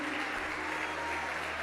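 A church congregation applauds steadily throughout, a dense, even wash of clapping from many hands in a large room, with no break in it.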